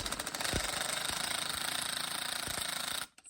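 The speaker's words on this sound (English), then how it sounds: "I'm gonna get my screw gun and I'm just gonna" Screw gun driving a screw into a Steelcase Think V1 office chair armrest, a loud, close, continuous rattling whir for about three seconds before stopping abruptly.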